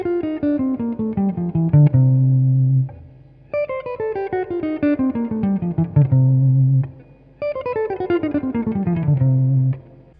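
Clean electric guitar plays a three-note-per-string scale in even, smooth quarter notes, running down through three repeated passes, close and clear with no talking.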